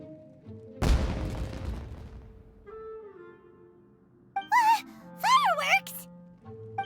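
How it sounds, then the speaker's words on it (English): Fireworks burst in the video game Genshin Impact: one sharp boom with a crackling tail, followed by quiet tones and brief warbling effects near the end, no talking. "It sounded like fireworks."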